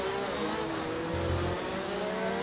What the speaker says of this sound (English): Has that engine revved out to the max, pushing on the rev limiter.